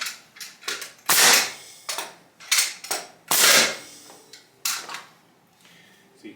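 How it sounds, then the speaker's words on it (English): A framing nailer drives nails into wood framing in sharp, loud pops, roughly a dozen in quick irregular succession, some with a harder kick and a longer crack. "you can see when I'm firing the nails, my framing nailer had a significant kickback"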